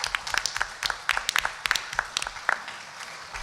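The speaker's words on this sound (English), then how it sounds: "we should give another round of applause for these folks" Scattered applause from a modest audience at an elected leaders' round table on farmland and open space preservation, with uneven individual claps at moderate distance and light talk underneath.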